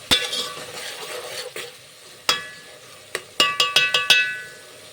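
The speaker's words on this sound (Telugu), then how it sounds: "ఆనియన్, పచ్చిమిర్చి ఫ్రై అయిన తర్వాత మనం కోసుకున్న టమాటా ముక్కలను వేసి మొత్తం ఒకసారి చక్కగా కలపండి" Tomato pieces being stirred into hot oil with fried onion and green chilli, a soft sizzle running under sharp spoon clanks and scrapes against the pan, several quick strikes clustered near the end, no talk.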